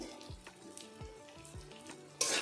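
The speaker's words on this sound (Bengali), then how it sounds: "সবজি দেওয়ার আগে মশলাগুলো ভালো করে ভেজে নেব" Spices frying in a pan for a light rohu fish curry with ridge gourd and drumsticks: a low sizzle under repeated knocks of a spoon against the pan, ending in a louder burst of hissing.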